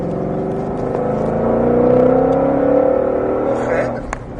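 A 760-horsepower Ford Mustang Shelby GT500 accelerates hard on a track, its engine note rising steadily in pitch from inside the car before easing off near the end.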